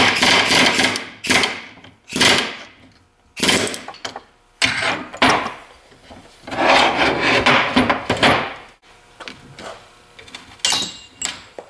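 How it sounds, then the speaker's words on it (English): Pneumatic air hammer knocking C-clips out of the front U-joints on a 1994–2001 Dodge Ram 1500: loud, close bursts of harsh rattling hammering in several runs separated by short pauses. "So that's why I like to use the air hammer"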